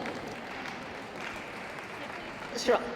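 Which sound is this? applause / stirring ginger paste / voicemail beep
applause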